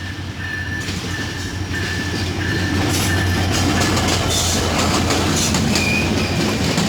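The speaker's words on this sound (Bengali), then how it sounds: "লম্বা হুইসেল দিয়ে রাজশাহী থেকে ছেড়ে আসা খুলনাগামী কপোতাক্ষ এক্সপ্রেস ট্রেনটি চুয়াডাঙ্গা রেলওয়ে স্টেশনে প্রবেশ করছে" Kopotaksha Express train from Rajshahi to Khulna entering Chuadanga railway station: a loud, close, steady rumble of rolling wagons with rhythmic wheel clatter and a high wheel squeal, swelling louder midway.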